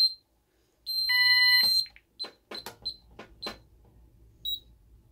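An Ademco 6137R alarm keypad sounds a few short electronic beeps, then a longer sustained alarm tone signalling bell failure, followed by scattered beeps and clicks; no talking.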